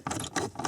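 Screws being backed out of an Audi A4 climate control motor with a hand ratchet: three short bursts of close, rapid mechanical clicking, with brief pauses between them.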